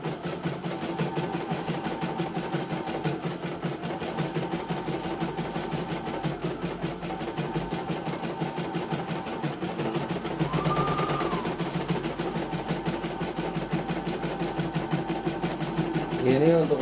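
A CNY E900 embroidery machine runs a test with a steady, rapid mechanical stitching rattle throughout. Someone talks over the machine noise.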